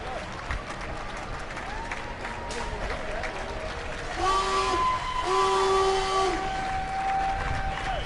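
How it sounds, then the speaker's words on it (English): Fans clap and cheer along a Huntington Beach 4th of July parade route as a submarine veterans' group passes, the applause steady and mid-distance, with horn or whistle blasts sounding over the crowd noise. "Getting a great round of applause from the fans here."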